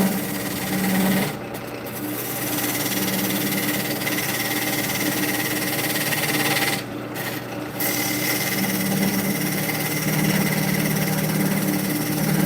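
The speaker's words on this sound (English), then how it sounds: "now we'll go back into it with the bowl gouge." A bowl gouge cuts into wood spinning on a lathe, a continuous rough scraping hiss over the motor's hum, twice dropping briefly as the tool lifts away, with no talk.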